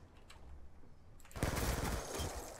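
A sudden loud burst of rapid automatic gunfire from Call of Duty: Black Ops 2 breaks out after a quiet stretch with faint distant shots, then rattles on steadily to the end.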